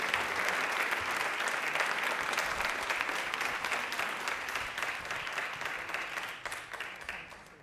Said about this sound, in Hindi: तालियां प्लीज एक बार डॉक्टर प्रोफेसर आपके लिए बहुत जोरदार होनी चाहिए प्लीज